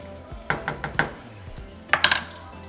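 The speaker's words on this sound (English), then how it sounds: "Just give it a little mix." A spoon clinks against a pot while stirring macaroni soup with melting Oaxaca cheese, a handful of light metallic taps in two short bursts, close and fairly quiet.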